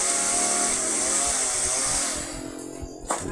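Chainsaw trimming a tree branch tangled in power lines near a school, a loud steady buzzing drone that eases off near the end before a short clatter, with no talk.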